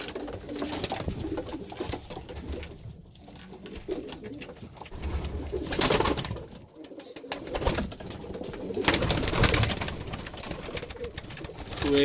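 Pigeons coo softly and repeatedly inside a breeding loft, low throaty calls rising and falling at moderate distance with a faint room ambience and brief quieter gaps.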